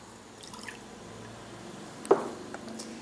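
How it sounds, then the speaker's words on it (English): Water poured into a medium mixing bowl to start a bread pre-ferment, a soft steady liquid trickle close by with one louder splash-drip near the end. "I'm gonna start by pouring in my water"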